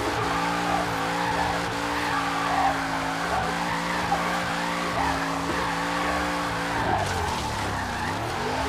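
A Holden GTO muscle car in Forza Horizon 3 drifts with continuous tire squeal over a steady engine note, the tone wavering as the slide swings, then breaking off near the end.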